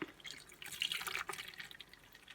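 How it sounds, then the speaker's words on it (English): Chokecherry jelly liquid dripping through a cheesecloth or kitchen towel set in a strainer, a soft, close, continuous patter of drips and trickling with no talk. "You'll want to strain this a second time through like a cheesecloth or a kitchen towel and through your strainer."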